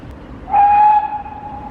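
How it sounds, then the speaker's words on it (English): A single clear whistle blast from a steam train at Dartmouth, Devon, about half a second long and fairly loud, over quiet background rumble. "I love the sound of that whistle."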